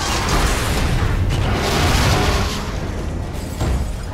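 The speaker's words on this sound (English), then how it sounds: "Possible laboratory break-in confirmed by big explosion" A big explosion rumbles through a Lego Marvel Super Heroes laboratory break-in, a dense, loud boom with sustained broadband roar over about four seconds and a couple of fresh bursts near the end.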